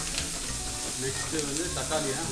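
Onions sautéing with salt in a hot pan make a continuous close sizzle and crackle, with light stirring movements underneath and no voices.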